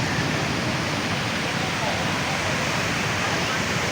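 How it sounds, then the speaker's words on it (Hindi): Floodwater from Bhimber Nala, near Bhimber in AJK, rushes through the stream under a bridge after rain. It makes a loud, steady, broadband roar of churning water that never lets up. "बाकी वो देखें किस स्पीड से ये पानी यहाँ से गुजर रहा है।"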